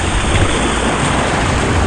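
Loud, steady splashing rush of a jaguar statue spewing a stream of water into a resort pool, a dense continuous wash close to the microphone with no voices over it.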